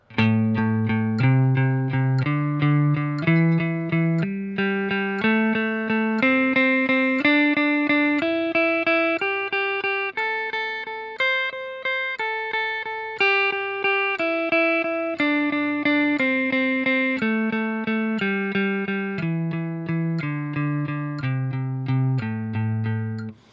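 An instrument plays a steady stream of evenly spaced notes grouped in threes, stepping up a scale and back down, clear and alone.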